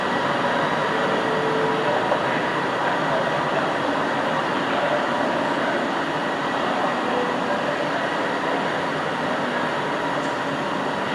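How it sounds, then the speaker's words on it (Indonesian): Driverless light rail train on the Kelana Jaya line of the LRT at a station, giving a steady, loud rumble of wheels and motors that holds evenly from start to finish with no talking. "LRT yang jurusan Kelana Jaya ini bagus ya."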